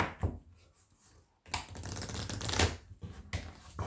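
Large Druid Animal Oracle cards being shuffled by hand, with a brief rustle followed by a longer, dense riffling clatter in bursts, close and moderately loud with no talking.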